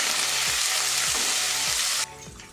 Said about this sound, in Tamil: ஒரு கொத்து கருவேப்பிலை, கொஞ்சமாக கொத்தமல்லி சேர்த்து அதையும் வதக்கிப்போம்.